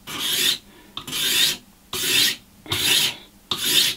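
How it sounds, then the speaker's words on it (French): An old plane blade used as a hand scraper rasps across wood in a luthier's workshop, five steady strokes with short pauses between, close and alone. "ce qui me permet de pouvoir gratter et de m'en servir comme racloir"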